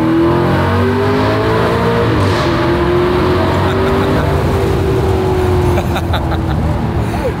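A car engine revs loud and close for the whole stretch, its pitch climbing and easing in long sustained sweeps during an outdoor photo shoot with the car.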